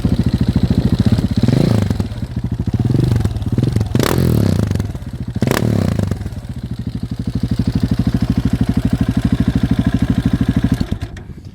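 A KTM 690 SMC R single-cylinder motorcycle engine runs close by with a rapid, lumpy thumping beat, revving up sharply a couple of times before settling into a steady idle.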